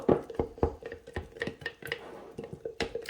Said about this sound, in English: Got my long-handled spoon, and we're gonna stir really, really, really well